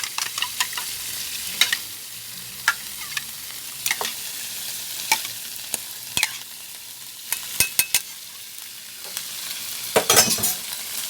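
Mixed liquid for a Thai curry powder crab being whisked in a bowl, light irregular clinks and taps over a faint hiss, close and quiet with no voices.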